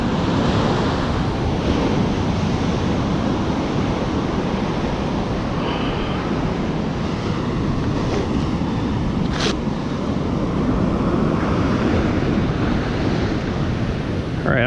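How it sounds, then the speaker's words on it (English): Ocean surf breaks and rushes continuously along a foggy morning beach where someone is surf fishing, a steady loud wash of waves with wind noise over the microphone throughout. "I feel like these waves are getting a little bigger as the tide is getting a little higher"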